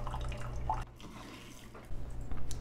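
A Keurig K Express coffee maker brewing an 8-ounce cup of hot water gives a soft dripping and trickling over a low machine hum, fairly close and quiet.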